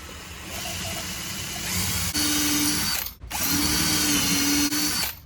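A power drill drives 65mm screws into wooden uprights in a bed frame during a van build, two loud whirring bursts separated by a brief pause, with no talking.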